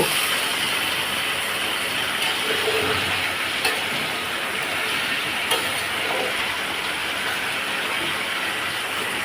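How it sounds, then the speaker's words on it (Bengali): Snake gourd frying in a pan while being stirred, giving a steady, close sizzle with a few sharp clicks of the utensil against the pan and no talking. "আমি চিচিঙ্গাটা ভালোভাবে নেড়ে দিচ্ছি।"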